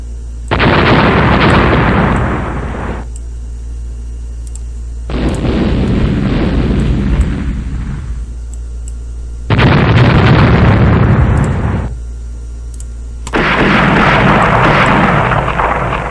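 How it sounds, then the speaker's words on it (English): Torpedo strikes on an enemy ship in the naval strategy game Rule the Waves, heard as four loud, heavy explosion bursts of about two to three seconds each, separated by short, quieter gaps. "Enemy ship, yay! It's hit by a torpedo."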